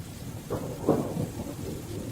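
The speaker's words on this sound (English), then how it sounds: "I awake to thunder and lightning and wind howling through the forest behind my home" A massive morning thunderstorm over the forest behind a home brings a soft, distant roll of thunder over a steady wash of rain and wind.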